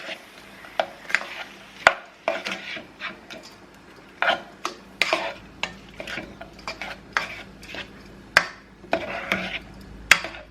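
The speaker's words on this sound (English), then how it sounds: "I'm going to add that and just kind of stir it around so everything gets nice and coated." Rice with two tablespoons of butter stirred in a pot, a spoon scraping and clinking against the pot in an irregular rhythm of sharp knocks over soft rubbing, close and fairly loud, with no talking.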